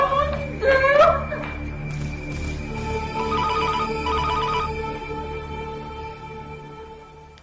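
A telephone rings with a repeating electronic ringtone, a tonal melodic pattern that sounds twice and then fades, heard after a brief agitated voice at the start.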